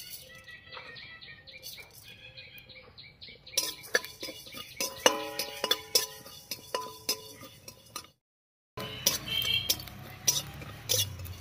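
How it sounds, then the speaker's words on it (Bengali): Whole cumin and coriander seeds dry-roast in a pan, with quiet rustling and repeated light clinks and scrapes of a spoon stirring. The sound drops out briefly before the stirring resumes. "এবারে শুকনো খোলায় 1 চামচ গোটা জিরা আর 1 চামচ গোটা ধনিয়া ভেজে নিচ্ছি।"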